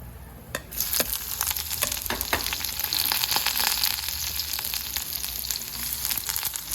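Sliced onion frying in a kadai of hot oil with bay leaf, cloves and cinnamon, a steady close sizzle with scattered crackles and sharp clinks of a stirring spoon against the pan.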